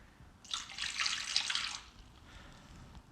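A cup of water poured into a bowl while making coffee jelly: a steady splashing pour lasting about a second and a half, close and fairly loud, then tapering into a faint trickle.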